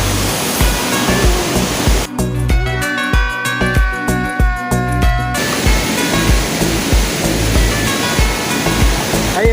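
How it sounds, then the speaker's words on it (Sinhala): A small waterfall near Bomburu Ella roars loudly and continuously nearby, a dense rushing wash of falling water, with a short stretch of music cutting in over it partway through. "මේ තියෙන්නේ මේ අර පොඩි දිය ඇල්ල"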